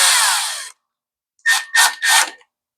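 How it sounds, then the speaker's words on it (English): A screw gun whirs as it drives screws into the engine plate of a Craftsman Professional engine: one long high whine, a pause, then three short spaced bursts, loud and close with no talking. "And now with the screw gun, I'm going to go really gentle"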